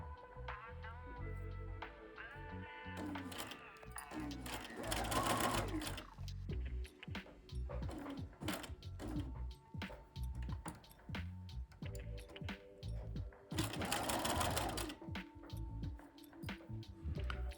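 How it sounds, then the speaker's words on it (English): Sewing machine stitching fabric at a corner of a CLEO sewing project, running in repeated bursts with short pauses as the needle is sunk and the fabric turned, steady and close with no talk. "I will show you the process of sinking in the needle and moving the fabric"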